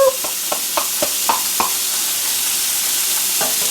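Ground beef and onions sizzle steadily in a pan over medium-high heat, with a few sharp scrapes and clatters from stirring early on, close and continuous.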